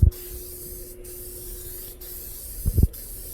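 An aerosol spray can lays guide coat over a car body repair panel, making a steady close hiss with short breaks as the nozzle is released and pressed again, plus a few soft knocks.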